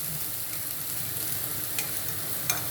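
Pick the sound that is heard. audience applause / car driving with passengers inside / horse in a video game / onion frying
onion frying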